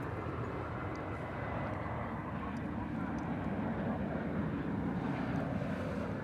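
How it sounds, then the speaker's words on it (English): An American Airlines jet arriving at Dallas/Fort Worth airport from Minneapolis–St. Paul gives a steady broadband engine roar under wind noise, holding an even, moderately loud level for the whole stretch. "This is American Flight 2406 coming in from Minneapolis, St. Paul, Minnesota."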